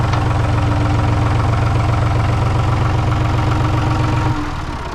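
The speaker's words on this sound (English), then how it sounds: "Let me lift up the tractor here." A tractor engine idles close by with a steady, low, chugging rhythm that holds evenly, then drops in level abruptly near the end as the running note changes.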